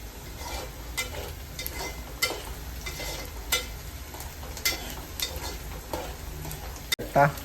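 Tomatoes go into a pan of browned onions, giving a moderate sizzle with scattered stirring clicks and scrapes throughout while cooking a Konkani Agri-Koli vegetable curry.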